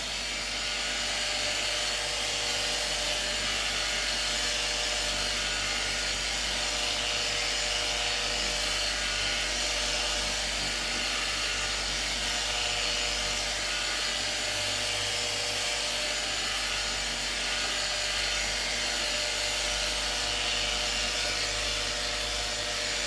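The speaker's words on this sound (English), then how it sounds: "you do want to keep your polisher level" A steady, unbroken whir of a power polisher buffing a guitar finish runs throughout at an even pitch, loud and close, with no talking over it.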